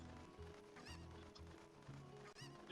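Cucco chicken clucking in the Ocarina of Time video game, a few brief squawks over a busy game soundtrack and effects, fairly loud throughout.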